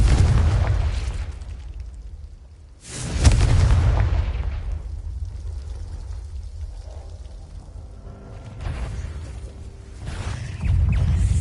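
Confringo spell blasts in the video game Hogwarts Legacy, several heavy booming explosions with rumbling decays, loud and close, one after another with pauses between them and no talk.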